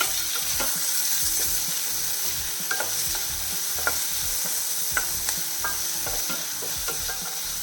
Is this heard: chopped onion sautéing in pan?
yes